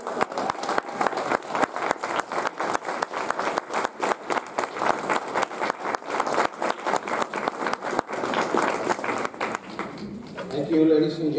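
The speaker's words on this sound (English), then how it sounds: "Please, big round of applause." An audience at a community event inaugurating a new executive committee for a Bengali New Year celebration claps in a brisk, rhythmic, evenly paced beat for about ten seconds. A voice begins speaking as the clapping ends.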